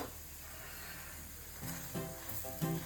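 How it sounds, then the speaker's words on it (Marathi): A green peas paratha fries in oil on a pan with a soft, steady sizzle. A few louder crackles and spatters come near the end. "तेल लावून भाजून घेत आहे मी छान पराठा."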